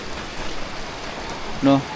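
Heavy rain falls outdoors in a steady, dense hiss throughout, fairly loud and close, with a brief tonal blip near the end.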